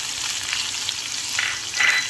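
Green chillies, garlic and curry leaves sizzle in hot oil with asafoetida, a steady close hiss of frying that swells slightly near the end.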